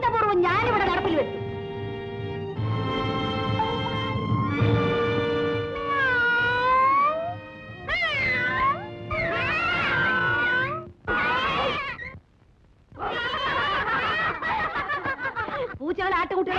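Loud, drawn-out meows and caterwauls fill a classroom scene in an old Malayalam film, voices imitating a cat in overlapping wavering cries, broken by short gaps and laughter.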